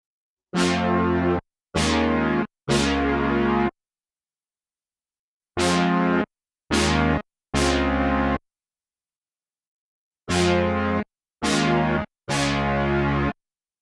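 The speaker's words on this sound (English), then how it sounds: "I'll take my Ultra Tap, select Modulation, Algorithm Chorus, and preset Big Clone" Analog synth notes run through an Eventide UltraTap set to its Big Clone chorus preset, giving a wide stereo shimmer. Nine sustained tones come alone in three groups of three, each note cleanly gated with silence between the groups.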